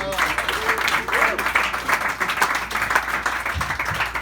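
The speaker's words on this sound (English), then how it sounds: "Give it up for Jonathan Tillson." Comedy club audience applauding as comedian Jonathan Tillson takes the stage, a dense steady wash of clapping, with voices talking faintly underneath.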